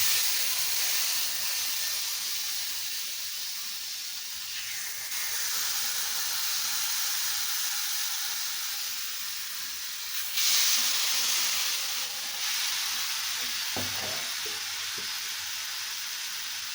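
Marinated tandoori chicken pieces sizzle in butter in a pan, a steady bright hiss throughout, swelling louder in places, with a few soft knocks and clinks of utensils near the end.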